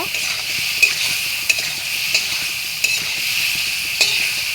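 Food is stirred in a frying pan over steady sizzling, with a spoon scraping the pan bottom at a slow, even pace of roughly one stroke per second, close and alone.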